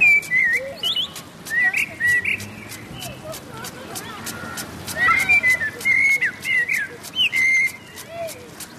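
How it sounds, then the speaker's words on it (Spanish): A blackbird sings from the top of a pine in Retiro Park, Madrid, fluting whistled phrases repeated in bursts with pauses, close and clear over faint park background with a sprinkler hissing. "Escucharemos ahora el canto de un mirlo subido a una copa de un pino."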